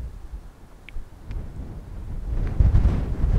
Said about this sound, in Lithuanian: Ir vėjukas biškičiau aprimo.